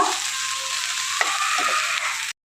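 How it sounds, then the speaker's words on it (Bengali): Nigella seeds and spices frying as a tempering in hot oil, a loud steady sizzle with a few sharp pops and stirring scrapes, cutting off abruptly near the end. "এখানে আমি কালো জিরে ফোড়ন অল্প করে এর মধ্যে দিয়ে দিচ্ছি। দিয়ে এবার ভালো করে মশলা ভেজে নেব।"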